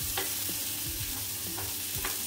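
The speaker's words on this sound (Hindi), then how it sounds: "स्लो फ्लेम पे ही काले चने को अच्छी तरह मिला लेंगे मसालों में" Black chickpeas stirred into spices in a pan over a low flame, a constant close sizzle broken by repeated rhythmic scrapes of a spoon against the pan.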